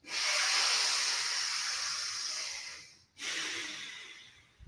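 Two long, deep breathwork breaths, each a loud airy rush, separated by a brief pause, heard up close with no speech.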